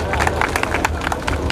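Crowd at a charitable trust's mass wedding ceremony applauds steadily, a thick patter of many hands clapping with babble and voices beneath.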